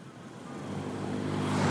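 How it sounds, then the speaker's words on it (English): A motorcycle passes a girl walking along a road in Kenya, its engine rising steadily from faint to louder as it approaches over the short moment, with no voices. "A motorcycle passes her."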